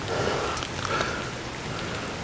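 Steady rain patters on surfaces nearby, a continuous soft hiss with scattered drips and no voices.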